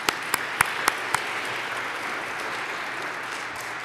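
A church congregation at Mass breaks into sustained applause, a broad steady clapping wash with a few sharper claps standing out near the start, fairly close and continuing evenly throughout.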